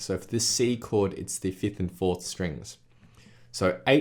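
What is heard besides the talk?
No distinct noise like a dog, phone or traffic.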